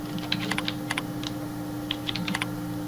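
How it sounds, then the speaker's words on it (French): Someone types a short word on a computer keyboard, a light patter of key clicks in two short bursts separated by a pause, close and alone over a faint steady hum. "Ensuite, nous saisissons Wireshark"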